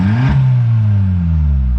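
A 2003 Jetta 1.8T with a muffler-delete exhaust revs briefly and loudly: the engine climbs fast, then drones down as the revs settle, with a deep, steady exhaust tone and no talking.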